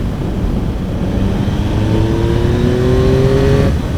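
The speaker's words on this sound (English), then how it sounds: "it's much more fun doing acceleration pulls" A 2024 Yamaha MT-09 motorcycle fitted with an acoustic amplifier intake pulls hard under acceleration, its engine note climbing steadily in pitch over several seconds, loud and close, then cutting off abruptly near the end.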